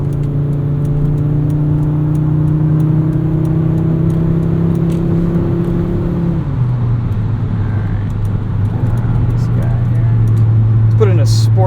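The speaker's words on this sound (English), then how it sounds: "Put it in a sport mode, give you guys some revs here." A Volvo 850R engine hums steadily in sport mode, its pitch holding then dropping as it shifts, with a constant drone of road noise around it.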